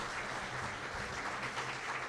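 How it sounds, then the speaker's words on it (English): Guests at a chamber of commerce luncheon applaud their event sponsors, a dense, continuous round of clapping from a crowd, heard at a moderate distance. "Let's have a round of applause for all our great sponsors."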